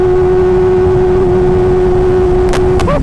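A Hayabusa motorcycle holds a loud, steady high-revving engine drone during a tire burnout, continuous and close, ending with a few sharp bursts and a short chirp.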